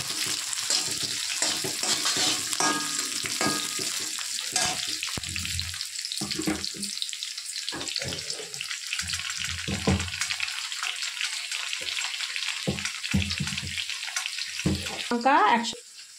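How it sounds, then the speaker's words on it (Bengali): Chopped onions fry in hot oil until reddish, giving a steady, close, hissing sizzle that runs throughout, with occasional low stirring knocks and scrapes and a brief louder clatter near the end. "পেঁয়াজ কুচি দিয়ে আমি একটু পেঁয়াজগুলো লাল লাল করে ভেজে নেব।"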